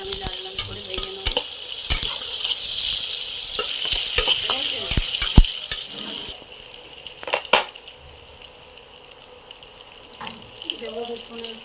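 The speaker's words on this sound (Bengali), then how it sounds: "পেঁয়াজটা আমি লাল লাল করে ভেজে নেব।" Onions frying in oil in a pan, with a steady close sizzle and scattered stirring clatter throughout, plus some brief running-water and sink sounds.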